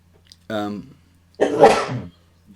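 A short voiced breath is followed by a loud, close sneeze, with no talking around it.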